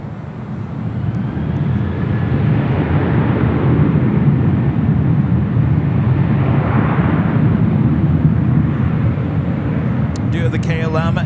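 Steady broadband roar of a Spirit Airlines Airbus A320 jet at LAX, continuous and fairly loud throughout, like an airliner taxiing or passing nearby, with a brief clicking at the very end.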